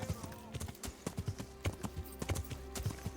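Horse hooves in the video game Kingdom Come: Deliverance, a quick regular clip-clop of a horse's steps, fairly close and moderately quiet, with faint background game ambience.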